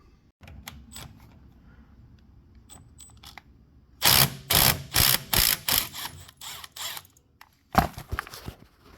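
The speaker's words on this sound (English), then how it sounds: "I can start pulling maybe just 4 mounting bolts" Mounting bolts come off a Bad Boy mower, with a burst of rapid, loud ratcheting clicks from a hand wrench in several quick bursts after quieter faint tool handling, close up.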